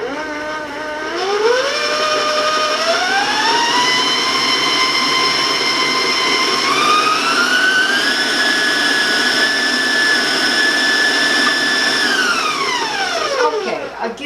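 A high-speed electric mixer beats chocolate sprinkle cookie dough after the vanilla goes in: a loud, steady motor whine that climbs in pitch in stages, holds high, then drops as it is switched off near the end.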